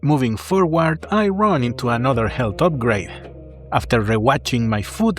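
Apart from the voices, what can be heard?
No distinct noise like a dog, phone or traffic.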